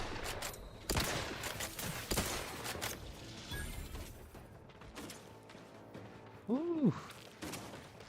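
Gunfire from the video game Outer Worlds 2 sounds in scattered sharp bursts under a player's quiet talking and an excited shout.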